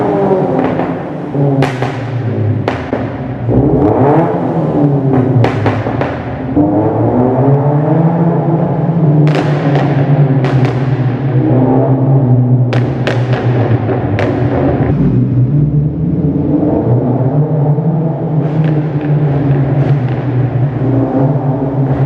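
A 2014 Scion FRS running a Stage 1 pop tune rumbles close and loud through repeated rev rises and falls, with sharp crackles and pops scattered throughout on deceleration.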